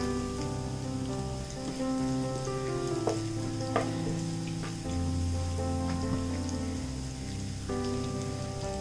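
Ginger, garlic and curry leaves sizzle steadily in hot oil for a Kerala-style beef ularthiyathu, a dense continuous crackle close by under soft music, with a few sharper pops.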